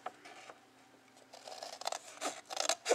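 Scissors cutting along a score line in chipboard, giving a string of quiet crisp snips and scrapes that grow more frequent toward the end, close up.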